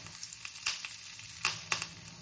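Curry leaves crackle in hot oil with split chickpeas, urad dal and dried red chillies for a tempering, a steady close sizzle broken by several sharp pops and spits.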